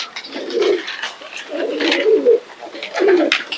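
Pigeons coo in three soft, rolling bursts separated by short pauses, close by, with faint chirps and a sharp click near the end.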